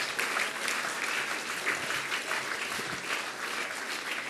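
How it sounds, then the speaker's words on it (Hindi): An audience claps steadily together at a religious discourse gathering, a dense, even wash of applause holding at moderate loudness throughout. "स्वास्थ्य वर्धक तालियां, जोर से बजाइए तालियां तालियां।"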